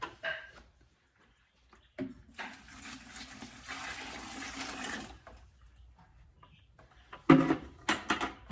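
Water pours steadily for about three seconds onto chicken feed to submerge it, with a rushing, splashing sound, framed by a few knocks and clunks.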